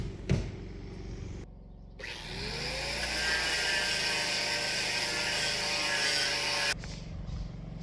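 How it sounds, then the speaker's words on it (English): An angle grinder smooths log cabin logs, spinning up after a few short bursts of contact and then holding a steady, close, loud whine for several seconds before cutting off. "Now we just gotta clean them up with the grinder."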